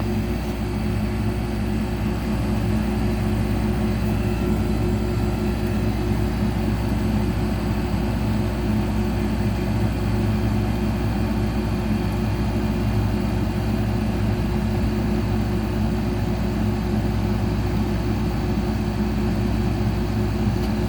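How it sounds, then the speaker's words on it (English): An air conditioner fan and motor give a steady, continuous hum with a low droning rumble, running evenly and loud throughout with no breaks. "Most of that sound is coming from the fan."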